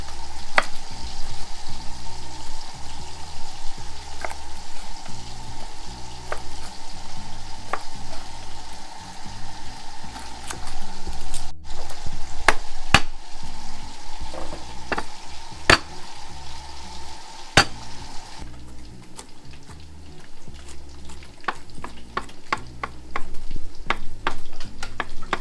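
Beef for a Cambodian pickled lime soup cooking in a pot, stirred now and then: a steady bubbling, sizzling bed continues throughout, broken by sharp metallic clicks and taps of a utensil against the pot, with no voices.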